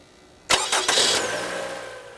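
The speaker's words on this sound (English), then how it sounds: "turn on the ignition of your car and test the same fuse again" A car ignition switched on and the engine cranks and catches, a sharp start followed by a couple of bursts, then settles into a steady idle, loud and close.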